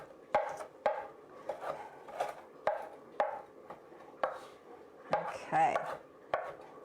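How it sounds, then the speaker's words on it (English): Italian parsley chopped coarsely with a knife on a board for a Mediterranean salad: about a dozen crisp, close strikes in an uneven rhythm, with a brief scraping sweep near the end and a single short spoken word. "So again, I've just coarsely chopped that."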